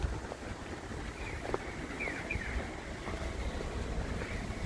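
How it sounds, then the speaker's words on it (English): Low rumbling wind buffets the microphone steadily on a street walk in Sangenjaya, Tokyo, with faint distant chirps and clicks underneath. "Hope the wind noise isn't too distracting."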